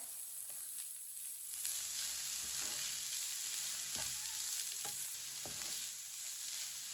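Spices with turmeric powder roast in a pan over a low flame, giving a steady close sizzle and hiss broken by a few soft scrapes of stirring, with no talking.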